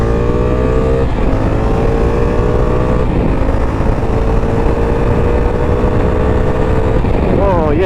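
A 2024 Honda Africa Twin 1100L motorcycle runs steadily while being ridden in the rain, its engine droning loud and close with rising and falling harmonic tones, and a voice speaks briefly over it.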